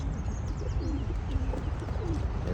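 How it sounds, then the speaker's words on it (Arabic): A flock of pigeons coos steadily in low, overlapping murmurs, with a few faint chirps mixed in. The birds are kept by their owner, and the sound is close and continuous. "هذول الطيور"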